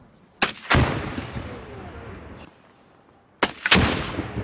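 Munitions detonate in low-order explosions on a hillside range, two pairs of loud booms a few seconds apart, each followed by a long rumbling decay.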